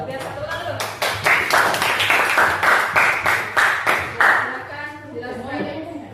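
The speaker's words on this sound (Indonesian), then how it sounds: "Tepuk tangan dulu." A classroom breaks into rhythmic clapping, a group of hands beating in a steady unison pattern for several seconds while voices murmur underneath.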